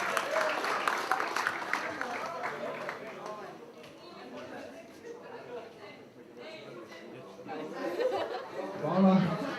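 Audience at a youth shooting competition award ceremony applauds amid crowd chatter and some laughter, a moderate, steady clapping wash that swells again near the end.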